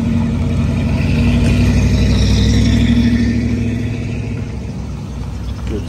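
Engine of an old Dodge with twin fins and a flat top, running at a classic car weekend in Sweden: a loud, steady low rumble close by that holds, then eases slightly toward the end, with no talking.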